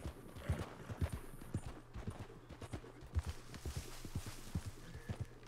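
Steady, rhythmic clip-clop of horse hooves at a walking pace in a video game, fairly close and moderately loud, with no voices.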